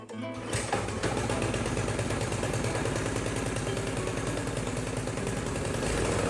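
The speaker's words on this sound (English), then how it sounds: "Then I will start the engine with the pull start." A Powersmart 212cc snow blower engine catches after a pull start and settles into a fast, steady, rhythmic chugging, loud and close, with no voices.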